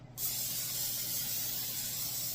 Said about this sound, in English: So I'm going to spray the bottom of my pan.